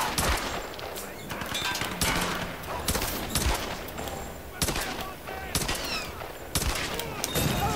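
Enemy gunfire in the Tomb Raider video game: repeated loud bursts of shots crack across the clip in clusters, dense and close, with a continuous game soundscape between volleys.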